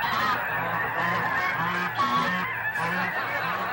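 A flock of geese honks loudly and continuously, many overlapping calls forming a busy, raucous chorus nearby.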